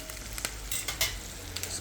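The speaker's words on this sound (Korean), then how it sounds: "버터 넣고 충분히 녹기를 조금 기다리고요" Butter melting in a pan gives a soft, steady frying sizzle with faint crackles and a few light clinks of a utensil, close up, no voices.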